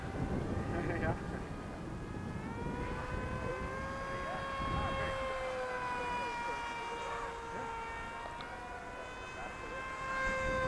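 RC plane, a Reptile S800 Sky Shadow on its maiden flight, with its motor at 90% throttle: a steady high-pitched electric whine that bends in pitch as it passes overhead, moderately distant, with outdoor wind noise.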